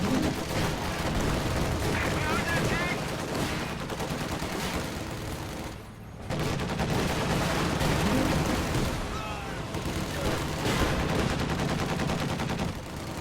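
Light machine gun grenadiers firing on enemy squads in a World War II strategy game, dense rapid gunfire bursts and booms rolling almost continuously, briefly dropping away midway, with a commentator talking underneath.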